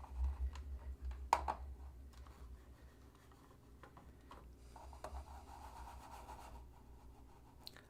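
Computer mouse clicking in a quiet room, a few sharp isolated clicks amid soft rubbing and keyboard-like tapping over a low steady hum.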